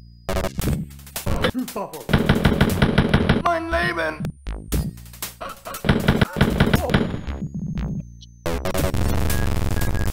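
Rapid machine-gun bursts in Wolfenstein 3D, loud and close, come in repeated volleys with brief gaps, mixed with game effects and a short pickup chime near the end.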